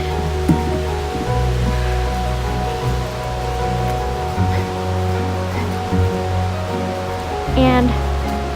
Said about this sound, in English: The trail runs along a creek.